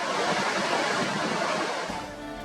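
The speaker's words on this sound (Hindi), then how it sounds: "दरियाए पंचकूड़ा की शोर करती लहरें" Roaring waves of the Panjkora River in Kumrat Valley, Pakistan, a loud steady rush of churning water that fills the whole clip and eases slightly near the end.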